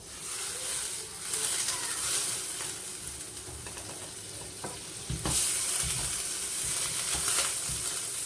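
Butter sizzles and fries in a pan at the start of cooking onions and grated carrots, a steady crackling hiss with a few louder spatters and stirring scrapes, close and moderately loud, no talking.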